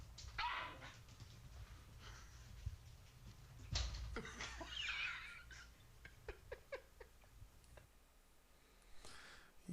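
A dog barks and yips in short bursts from a played video featuring a dog and a cat, with several quick sharp calls scattered over a faint background.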